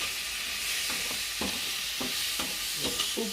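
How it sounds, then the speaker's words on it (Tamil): Soy sauce is stirred into chilli idli in a pan, a steady sizzling hiss with repeated scraping strokes of a spoon, close and fairly loud, no voices. "அப்படி மொத்தமாக ஊற்றிட்டு இதை மொத்தமாக வந்து பார்த்தீங்கன்னா கலக்கி விட்டுருங்க"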